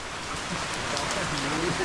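Steady rain patters continuously, a dense hiss of drops on a surface, with faint voices underneath.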